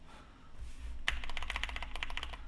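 Keystrokes on an Atari ST computer keyboard: after a quiet start comes one sharp clack, then a quick, slightly uneven run of crisp close-up key taps, with no talking.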